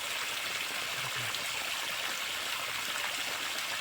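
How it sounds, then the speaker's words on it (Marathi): Strongly flowing stream water rushes in a steady, broadband wash that stays constant and fairly close throughout, with no voices. "आपण बघू शकता खरं तर खूप जोराचं पाणी आहे या ठिकाणी"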